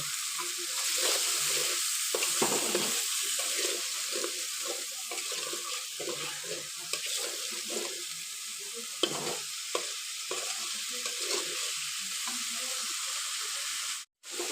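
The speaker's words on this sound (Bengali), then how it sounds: "অল্প পরিমাণ জল দিয়ে মশলাগুলো ভালো করে কষিয়ে নেব" Turmeric, coriander and chili powder sautéed with a little water in a pan, a steady sizzle broken by spoon stirs and scrapes, then a sharp cut near the end.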